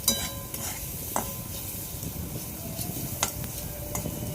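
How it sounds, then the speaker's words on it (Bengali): Hog plums (amra) fry in a pan with turmeric and salt, giving a steady, even sizzle broken by a few soft clinks and scrapes of stirring. "দেখো আমার আমড়াগুলো প্রায় ভাজা হয়ে গেছে"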